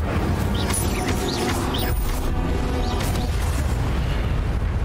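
Incendio fire spell blasts in the video game Hogwarts Legacy, heavy booming bursts layered over continuous rumbling combat noise with small whooshing sweeps.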